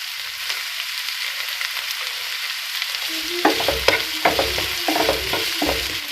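Chopped onions with salt sizzle steadily in a hot pan, with a few scraping stirs of a spoon against the metal in the latter half.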